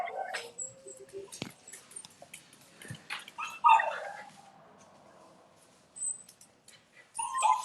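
Dogs at a husky house give scattered yips, whimpers and short barks at close to moderate range, interspersed with quiet gaps and a few knocks.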